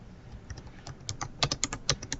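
Typing on a computer keyboard, a quick irregular run of close, light key clicks that grows slightly louder toward the end.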